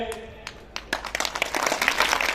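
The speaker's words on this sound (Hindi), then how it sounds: "आपकी तालियां बता रही किसी बात को संकेत" A crowd at a political rally in Adda Bazaar, Nautanwa, bursts into applause, starting with a few scattered claps and swelling into dense, sustained clapping by the end.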